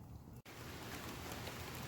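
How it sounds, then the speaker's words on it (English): Steady, faint rain pours outdoors over a backyard rib smoker, a dense even hiss with a brief dropout near the start, no voices. "it's raining"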